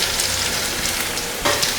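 Capsicum with coconut and salt sautés briefly in a pan for chutney, making a short close burst of frying hiss and light stirring scrapes with no voices.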